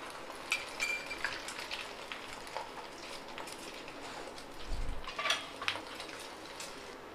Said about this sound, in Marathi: आता ह्याच पॅनवर आपण शेजवान राईसवर जे ऑमलेट असतं ते बनवून घेऊया.